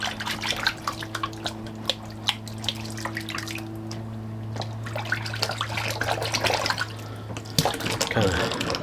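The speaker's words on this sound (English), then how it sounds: "let's empty good old Sigmund the Sea Monster sink" Water drains out of an emptied bathroom sink during a wet shave, with scattered drips and small splashes over a steady low hum, growing busier and louder toward the end.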